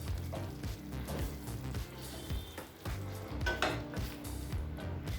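A spoon scrapes and stirs egg gravy with masala in a pan, with continuous light sizzling and irregular metallic clinks and scrapes close by.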